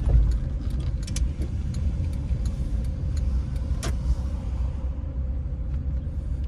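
A car cruises through residential streets in a Philadelphia neighborhood, with a steady low engine and road rumble from inside the cabin and a few faint rattles and clicks, no talking.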